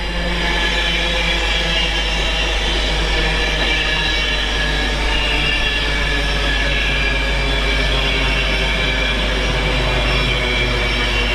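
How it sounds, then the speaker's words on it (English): An LNER train from Leeds to King's Cross with locomotive 82214 on the front rumbles past close by, a loud, sustained roar of wheels and engine with a steady underlying hum. "It's an LNER service from Leeds to King's Cross with 82214 on the front."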